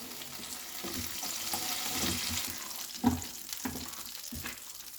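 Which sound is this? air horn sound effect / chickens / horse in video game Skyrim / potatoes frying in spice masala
potatoes frying in spice masala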